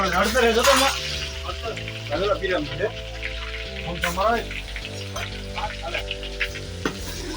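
Mustard seeds and onions crackle and sizzle in hot oil during tempering for a vegetable dish, busy popping bursts with a sustained hum and background voices.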